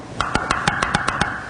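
A series of eight evenly spaced, sharp clicking pops from an unsealed vacuum-sealed jar lid being pressed repeatedly, fairly close and crisp with no voices.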